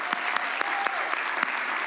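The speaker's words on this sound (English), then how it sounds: "let's give this outstanding jazz band another round of applause." Sustained applause from a school convocation audience honoring a jazz band, a dense steady wash of clapping with a few louder individual claps standing out, continuing without pause.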